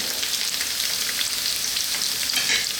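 Red onion frying in a pan for a potato mushroom curry, a dense, even sizzle heard up close and fairly loud, with faint stirring texture throughout and no speech.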